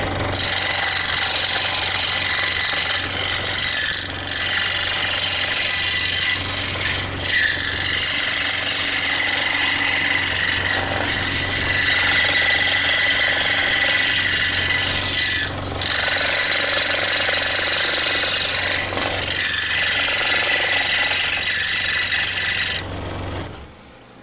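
A scroll saw cuts a square out of a wooden piece, giving a steady, close buzzing rasp of the blade with brief pauses at the corners before stopping near the end.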